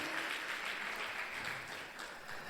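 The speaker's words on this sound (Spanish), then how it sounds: "le dan un fuerte aplauso al Señor" A church congregation gives a strong round of applause during a service: dense, steady clapping that fills the whole moment, close and full, with no voices standing out.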